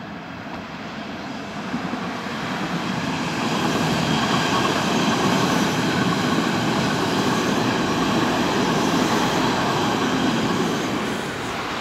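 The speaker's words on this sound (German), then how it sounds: "da hinten kommt, wie gesagt, die nächste S-Bahn nach Lichtenrade. So, die befährt jetzt da gerade den Gleiswechsel." A Berlin S-Bahn train crosses a track switch near Lichtenrade and Marienfelde. The wheels give a sustained, swelling rumble and rattle that grows loud, then tapers slightly, with no talk over it.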